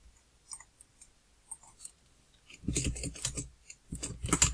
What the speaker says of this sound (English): So I'm going to go ahead and type these first few in.